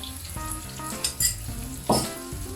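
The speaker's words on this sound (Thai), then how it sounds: "เจียวได้ประมาณนี้ก็เอากระเทียมลงไปเจียวด้วยค่ะ" Garlic fries in hot oil for Hainanese chicken rice, a close, steady sizzle broken by a few sharp stirring scrapes from a spatula against the pan.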